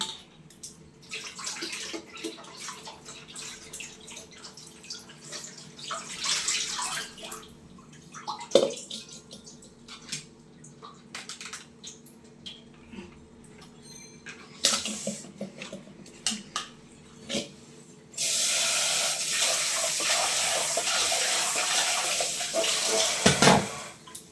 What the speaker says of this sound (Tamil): இப்போ 7ஆவது தண்ணி நல்ல வாட்டர் ஊற்றி அலசுங்க